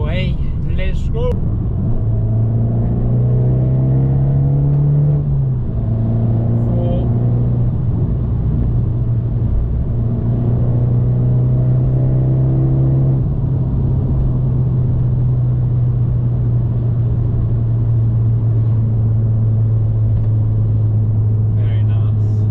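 Abarth 595 with a Garrett turbo accelerating hard, a loud close engine drone that climbs in pitch, dips briefly at a gear change, then pulls steadily upward again with a strong rumble underneath.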